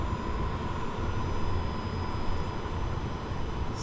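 A compact VEVOR 12V diesel heater in its shutdown cycle, the fan spinning down with a steady broadband whoosh and a thin high whine, fairly quiet and close, with no voices.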